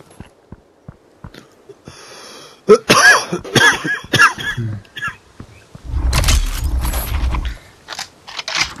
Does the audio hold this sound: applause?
no